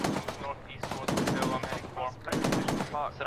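Gunfire in the military video game Arma, a series of sharp shots and bursts in clusters, close and loud, with voices talking over parts of it.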